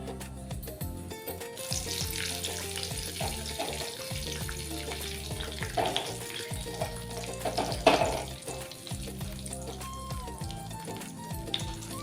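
Mustard seeds, cumin and a pinch of asafoetida fry in hot oil in a pan, making a steady close crackling sizzle with a few louder pops partway through.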